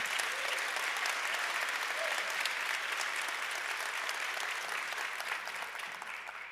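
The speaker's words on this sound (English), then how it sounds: "But a second round of applause for them" Sustained applause from an audience, steady and somewhat distant, continuing for several seconds and thinning slightly toward the end.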